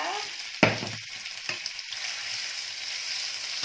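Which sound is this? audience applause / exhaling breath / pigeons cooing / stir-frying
stir-frying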